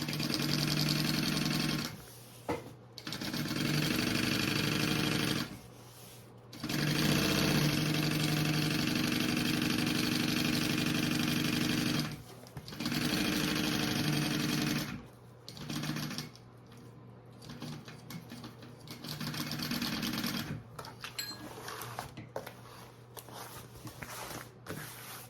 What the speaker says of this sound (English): So go ahead and sew that bottom up.